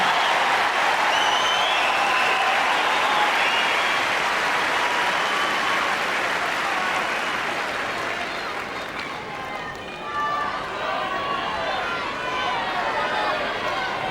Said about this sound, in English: the crowd made such a huge contributing factor in a final against Hingis. Listen to it here.